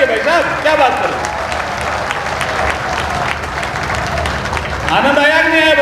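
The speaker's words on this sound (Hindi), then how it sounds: "जोरदार ताली बजाइए भाई साहब" Loud crowd applause at a hospital foundation-stone ceremony in Sujangarh, many hands clapping steadily for several seconds while a voice speaks over it at the start and again near the end.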